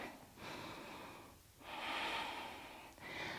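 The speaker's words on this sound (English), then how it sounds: "Take a breath." Slow, steady breathing through the nose during a yoga flow, two long airy breaths close to the mic with brief pauses between, no talking.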